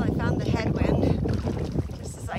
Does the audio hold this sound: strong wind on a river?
yes